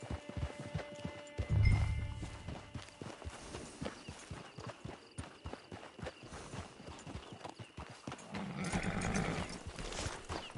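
Horse hooves clip-clop at a steady walking pace in Red Dead Redemption 2, with a couple of soft snorts, the rhythm continuing evenly at moderate volume.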